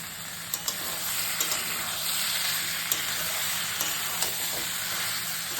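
Small new potatoes and soybean curry being sautéed in a pan, a steady hissing sizzle with occasional sharp clicks of a spoon against the pan, close and continuous.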